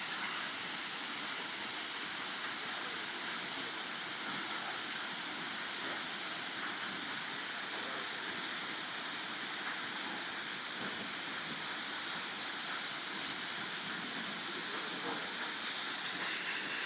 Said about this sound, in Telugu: వాటర్ ఫాల్స్లో ప్రకృతిలో ఎంజాయ్ చేస్తూ ఉన్నారనమాట